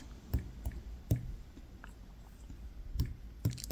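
Fingers tapping a search into a phone or tablet screen: light, irregular close clicks and taps, soft and intimate, with faint rustling between them and no talking.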